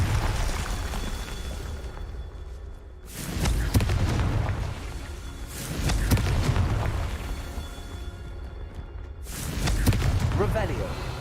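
Confringo explosion spells in Hogwarts Legacy on PS5 go off as repeated loud booming blasts, about four in a row, each swelling and fading with talk in between.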